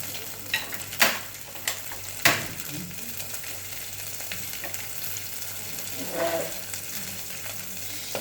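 Onion fries in a pan for a butternut soup, with a continuous low sizzle broken by several sharp spoon scrapes and knocks, including a louder stir near the end.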